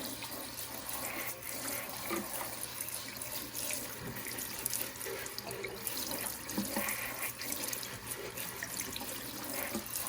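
Tap water runs steadily into a sink to water houseplants being moved indoors for winter, a continuous close splashing stream with light clinks, no talking.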